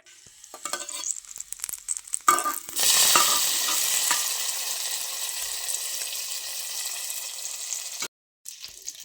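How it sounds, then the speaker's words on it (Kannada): Cashews and two dry red chillies frying in a few spoonfuls of hot ghee for bisi bele bath, a steady close sizzle that swells after a stir and a clatter, then cuts off briefly near the end. "ಒಂದು 3-4 ಚಮಚದಷ್ಟು ತುಪ್ಪ ಹಾಕ್ಕೊಂಡಿದ್ದೇನೆ, ಮತ್ತು ಸ್ವಲ್ಪ ಗೇರು ಬೀಜ ಹಾಕ್ಕೊಂಡಿದ್ದೇನೆ, ಮತ್ತು 2 ಒಣಮೆಣಸು ಹಾಕ್ಕೊಂಡಿದ್ದೇನೆ. ಇದನ್ನೀಗ ಫ್ರೈ ಮಾಡಿ"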